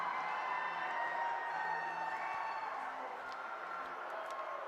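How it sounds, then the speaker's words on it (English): A boys' high school hockey crowd at the Central Vermont Memorial Civic Center roars after a game-tying goal, a sustained, dense wall of cheering and whooping that slowly eases. "this crowd has come alive here at the Central Vermont Memorial Civic Center"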